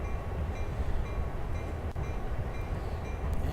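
Two EMD SD40-2 diesel locomotives idle in a train simulator game, giving a steady low diesel rumble with a faint metallic click partway through and no voices.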